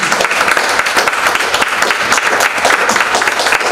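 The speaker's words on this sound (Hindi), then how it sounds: "एक बार जोरदार तालियों के बीच" Loud, dense applause from a large crowd, steady and sustained with many hands clapping at once and no pause.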